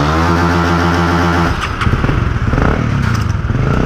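A Honda Supra GTR150 motorcycle with a remapped stock ECU idles with a steady, buzzing thrum for about a second and a half, then revs hard into a loud, rough, crackling roar that stays up close.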